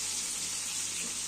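Mustard paste hits a hot pan while cooking shorshe ilish and gives off a loud, steady broadband sizzle that hisses without a break through the whole moment, with no voices.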